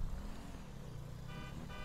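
Car engine droning steadily in the video game GTA 5, driven in first person, with a continuous low hum and shifting pitch over the short stretch and no talking.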